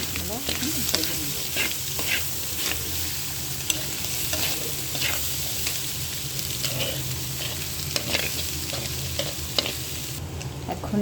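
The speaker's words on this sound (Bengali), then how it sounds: "এখন দিয়ে দেবো ক্যাপসিকাম, আলু আর হলো সসেস। এটা আমরা এখন ভেজে নেব।" Capsicum, potato and sausage fry in a pan for noodles, a continuous loud sizzle with frequent sharp clicks and scrapes of stirring, close and unbroken throughout.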